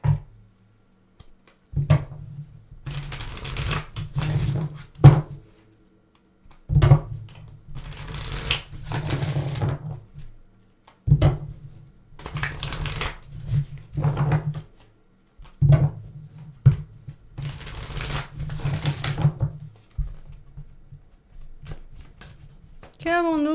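Tarot cards are shuffled for a reading in repeated crisp riffling bursts, about eight quick shuffles separated by short pauses, close and clear.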